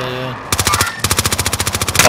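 Automatic gunfire in the Call of Duty: Modern Warfare video game, a loud rapid burst, a brief gap, then a longer steady stream of evenly spaced shots.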